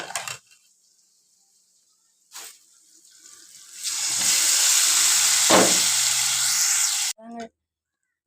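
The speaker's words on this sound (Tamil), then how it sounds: "குழம்பு இப்போ எடுத்து ஊற்றிக்கலாம்" A loud, sustained sizzling hiss as fish curry sauce is poured into a hot pan, rising suddenly and cutting off after a few seconds, with brief clatter before.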